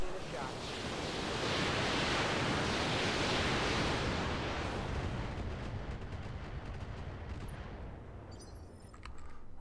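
Heavy, roaring rumble of artillery fire in the mech game Roguetech, a broad sustained blast that swells then slowly fades, with faint clicks near the end.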